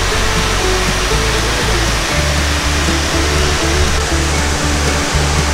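A loud, steady roar of falling water from the Poceta de Cristal waterfall in Cuba, constant and close, filling the whole clip without pause.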